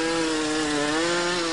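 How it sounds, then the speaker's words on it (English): A professional chainsaw sculptor's saw runs at a steady, high-pitched roar while carving wood, loud and close with no voices over it. "Professional chainsaw sculptor."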